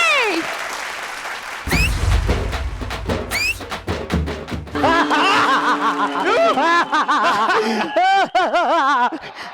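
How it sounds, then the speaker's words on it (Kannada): A studio audience on a Kannada TV comedy stage show claps in a burst mixed with loud musical stings and scattered laughter, lasting several seconds. "ಬರ್ಲಿ ಚಪ್ಪಾಳೆ"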